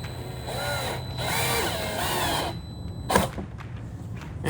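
A power drill drives a screw into the front splitter lip of a 2018-2023 Mustang GT with the track package, making a couple of short rising whirrs followed by a sharp click and quieter handling noises.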